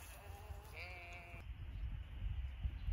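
Goats bleat briefly at a campsite, a single wavering call that is fairly faint beneath a low, rumbling outdoor background that grows louder afterward.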